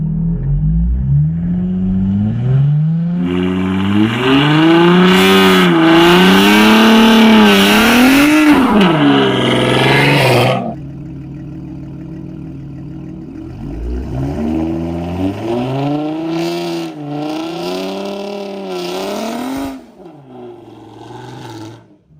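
A V6 sixth-generation 2016+ Chevrolet Camaro with a line lock revs hard during a burnout attempt, its engine climbing and wavering loudly for about ten seconds, dropping, then rising again before cutting off abruptly.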